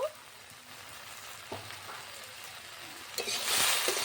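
Okra and potato frying in a pan make a continuous close sizzle with a few stirring scrapes, the crackle growing louder toward the end.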